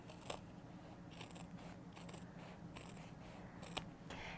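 Scissors trimming a fabric seam allowance on a sewing project with foam, a series of crisp snipping cuts, roughly six, spaced irregularly, faint and close with no voices.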